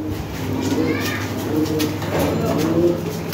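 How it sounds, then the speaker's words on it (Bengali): A pair of European Lahore pigeons coo softly and repeatedly at close range, low throaty calls rising and falling over a faint background hum; no clear talk. "খুবই ফার্স্ট ক্লাসের পেয়ার কবুতর,"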